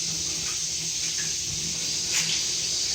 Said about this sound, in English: it is filling with water right now